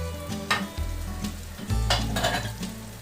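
Spices for a light Bengali red chicken curry with potatoes being sautéed in a pan, a steady close sizzle broken by repeated scraping stirs and a clank as the lid is moved.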